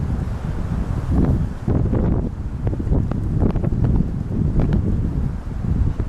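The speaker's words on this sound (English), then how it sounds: "But the wind's starting to get a bit chilly now." Wind gusts buffet the microphone in a wide open area with no buildings nearby, a loud, uneven rushing with fluttering bursts throughout and no talking.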